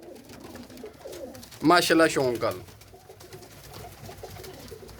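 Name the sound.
pigeons cooing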